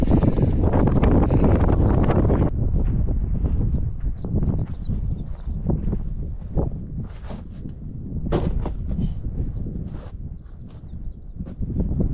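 Strong wind roaring across the microphone on a remote road trip toward the Rockies, a loud continuous buffeting rush that eases slightly but never stops, with faint scattered knocks and no talking.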